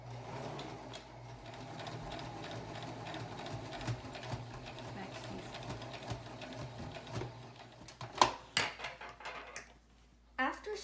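A sewing machine stitches cloth for a face mask, giving a continuous, quiet mechanical whirr and rapid needle chatter that runs for several seconds before a few louder clicks and handling knocks near the end.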